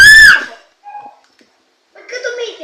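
A child gives a brief, loud, high-pitched scream at the very start, then falls quiet. Faint voices follow during a slime-making session.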